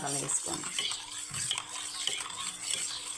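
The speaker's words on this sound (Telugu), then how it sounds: "ఈ పెరుగు బాగా కొంచెం ఇలా బాగా స్పూన్తో ఇలా కలబెట్టేసేసి" Spoon clinking and scraping as yogurt is stirred in a bowl, a few soft taps and swirls over faint background noise, close by.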